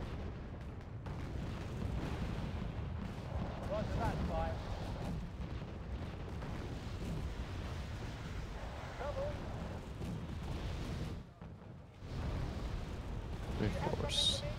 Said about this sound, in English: Mortar's going out.